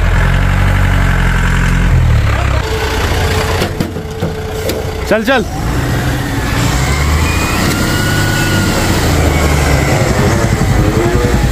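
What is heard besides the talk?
truck engine running while being moved aside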